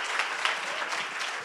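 A church congregation applauds during an evangelical service, giving dense, continuous clapping from many hands at close range, with a faint voice underneath.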